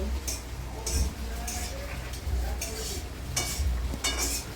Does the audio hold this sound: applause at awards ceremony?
no